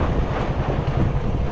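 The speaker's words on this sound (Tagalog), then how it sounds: "Ang lakas ng hangin." Strong wind at sea from a boat, rumbling steadily against the microphone as a loud, low buffeting roar with no talk over it.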